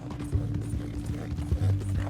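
Hooves clip-clop steadily from a horse in the Western video game Red Dead Redemption 2, with a faint mechanical creak and rattle along with them and no talk over them.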